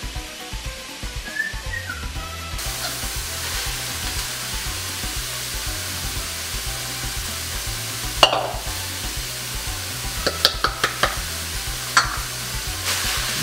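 Chopped onion and garlic fry in a pan with browned meat, a steady close sizzle broken by scraping and clattering stirring strokes toward the end, with a faint whistling tone underneath.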